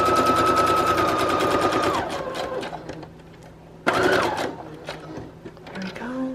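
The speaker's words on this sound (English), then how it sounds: "if I can sew on any of those final pieces of fabric while I'm doing the border sewing" A sewing machine stitches a fabric border on collage tags, its rapid mechanical chatter loud and close, pausing mid-clip before starting again with a sharp restart.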